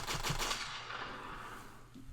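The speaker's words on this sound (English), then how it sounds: "Gunshot." A gunshot sound effect: a rapid burst of sharp cracks up front, then a fading echoing tail, loud and without talk.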